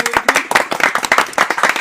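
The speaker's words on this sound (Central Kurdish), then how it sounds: "وەڵڵای کاکە شایانی چەپڵە لێدانەچێت" Close, loud hand claps from a few people during a gaming livestream celebrating one million followers, coming in quick, uneven bursts of distinct sharp slaps.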